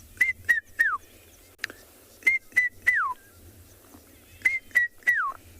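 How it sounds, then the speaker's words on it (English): A red-chested cuckoo calls in clear repeated phrases of three rising-then-falling whistled notes, the last note sliding downward, with short pauses between the phrases, fairly near over quiet bush. "one of my favorite birds to start hearing at this time of the year, because it means that the verdant and fertile season of summer is almost here, is the red-chested cuckoo"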